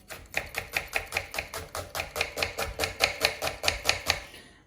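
A magic knife chopping onions on a board, about twenty sharp, evenly spaced cuts in a quick steady rhythm, close and clear with no talk.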